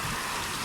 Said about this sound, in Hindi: बारिश का सिलसिला जो है लाहौर में शुरू हुआ है